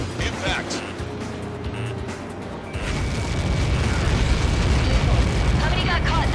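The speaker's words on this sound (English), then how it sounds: "How many got caught in that explosion?" A huge missile-strike explosion from Ace Combat 7 gameplay: after a quieter stretch, a deep rumbling roar swells and sustains loudly, with radio voices talking over it.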